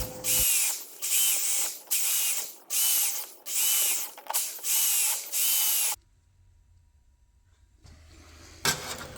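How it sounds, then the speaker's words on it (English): A power drill bores 1/4-inch plug-weld holes through a 1968 Mustang Shelby GT inner fender patch panel, with seven loud, close bursts in an even rhythm. Quiet follows, then a short, sharp clank. "Here I'm drilling 1/4-inch holes through the patch panel that will be used for the plug welding."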